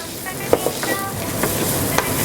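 Chopped onion and capsicum sizzle in melted butter in a pan, a steady close frying hiss broken by a few sharp clicks of a spoon stirring against the pan, with no voices.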